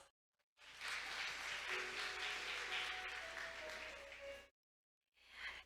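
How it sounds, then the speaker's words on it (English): Audience applause at a maritime conference session after a presentation, a sustained burst of clapping from a hall-sized crowd that stops abruptly, then briefly resumes. "Let's give him another big round of applause."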